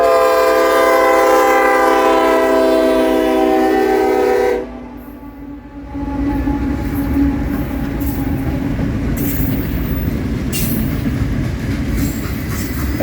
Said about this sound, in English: SD40 and a GP38?